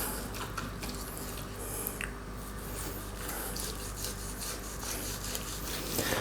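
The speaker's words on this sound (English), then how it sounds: "just go through with a knife all the way through" Knife carving slices through a roast turkey breast for a Christmas or Thanksgiving meal, a steady close rasping, rubbing cut running continuously with a few brighter scrapes, no talk.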